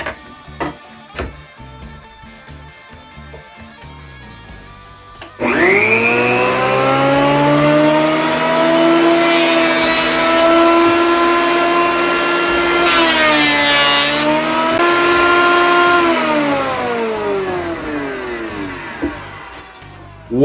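Craftsman CMEW020 10-amp variable-speed jointer spinning up to 11,000 RPM: after a few clicks and knocks, the motor whines up to a loud, steady high-pitched drone with shifting cutting tones as wood passes over, dipping and rising again before winding down.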